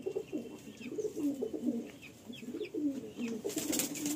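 Madrasi and Giribaj pigeons coo at a loft, with repeated soft, throaty rolling calls that rise and fall close by. Light rustling comes through near the end.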